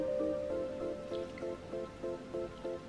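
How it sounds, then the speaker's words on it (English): Heated sauce is poured over raw vegan pad thai and mixed, giving quiet wet drips and soft squishy stirring sounds in a regular, repeating rhythm. "I'm just gonna simply pour it over. I'm just gonna give it a mix"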